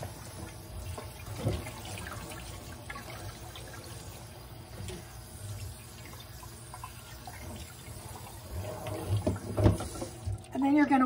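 Tap water runs steadily into a kitchen sink while a raw whole turkey is washed inside and out for roasting, a low continuous stream with some splashing that builds toward the end.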